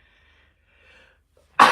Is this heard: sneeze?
yes